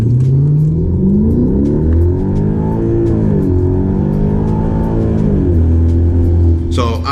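A 2012 Hyundai Genesis 5.0 R-Spec with about 140,000 miles launches hard from roughly 1,000 rpm with traction control off in manual mode, its V8 climbing through gears in loud, continuous rising sweeps with brief dips at each shift.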